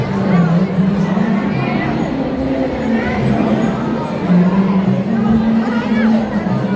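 A dense crowd packs Prem Mandir temple, a steady hubbub of many overlapping voices chattering close by without pause.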